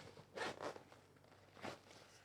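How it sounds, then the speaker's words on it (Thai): Two-way zipper on the main compartment of a Gregory Spear Hard Core 12L backpack being pulled open, a few short, stiff rasping drags close by in a quiet room, with brief pauses between pulls. "โอเคซิปสองทางนะครับ"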